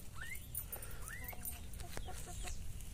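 Hens cluck softly around a large black Giant rooster and his chicks, with rising chirps and scattered clucks over steady farmyard background noise.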